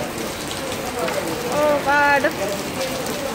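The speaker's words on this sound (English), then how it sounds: "Rain is falling." Rain pouring down in Jamaica outside Valley Mart, a dense steady hiss of drops on surfaces throughout, with a person speaking and exclaiming briefly over it.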